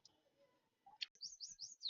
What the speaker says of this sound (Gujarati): ચકલા ક્યાં બોલે છે?